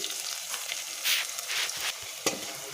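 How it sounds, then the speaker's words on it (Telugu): Ginger garlic paste fries with onions and curry leaves in a pan, giving a steady sizzle that swells in bursts as it is stirred, close and alone with no talking. "ఇది పచ్చివాసన పోయేంత వరకు లైట్గా ఫ్రై చేయాలండి."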